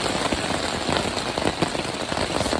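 Rain pours steadily onto a hiker's campsite on the Appalachian Trail, a dense, loud, continuous patter close by with no voices.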